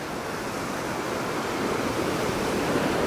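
Swiftly flowing Bear River in Evanston, Wyoming, heard from the middle of a bridge: a steady, loud broadband rush of water with no pauses, nearby and alone.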